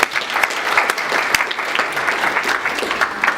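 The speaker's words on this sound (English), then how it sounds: "A round of applause," An audience at a book launch bursts into loud, dense applause, many hands clapping continuously and close, with no speech over it.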